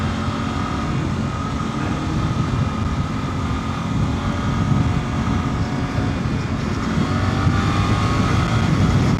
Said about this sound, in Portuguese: o Quick Shift a partir de uma certa rotação corta-se aqui que é uma maravilha, manteiga mesmo